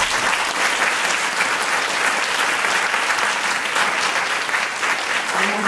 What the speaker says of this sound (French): Donc, j'aimerais qu'on l'applaudisse.